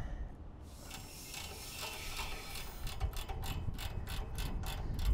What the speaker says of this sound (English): we're just going to open the valves